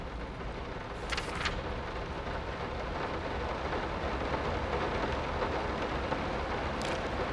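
Heavy rain in the horror game Layers of Fear, a steady, loud roar of downpour with a couple of brief sharper bursts, continuous throughout with no speech.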